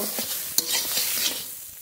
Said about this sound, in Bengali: এইভাবে নেড়ে নেড়ে শাক ভালো করে শাক ভেজে নেব